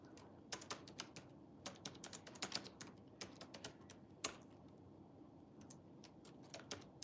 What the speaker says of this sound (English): I'm just typing the name of the book right here.